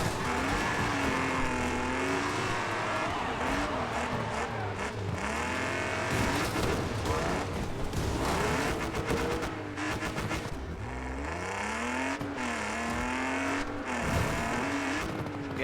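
A race car in the video game Wreckfest 2 roars continuously for the whole stretch, engine pitch rising and falling through gear changes, with tire squeals and scraping contact, loud and close without any talk.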